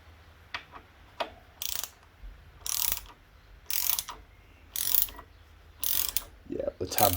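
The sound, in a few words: torque wrench ratcheting while tightening motorcycle bolt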